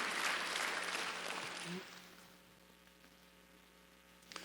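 A church congregation at a Sunday service applauds, a loud burst of clapping that fades out after a couple of seconds over a steady mains hum.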